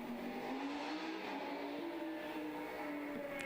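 A racing motorcycle at an Oulton Park test day wheelies out through the pit lane, its engine note rising steadily in pitch as it accelerates, a continuous strained whine heard from a moderate distance against steady background noise.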